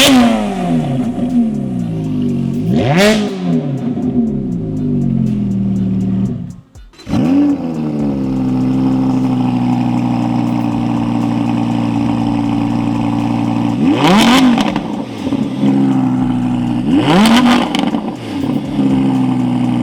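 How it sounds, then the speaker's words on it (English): A Ferrari F430 and an Audi R8 take turns revving hard, loud and close, with several sharp throttle blips rising and falling over a steady engine drone, the Audi held back by a soft rev limiter. "I'm gonna rev them both and you tell me which one"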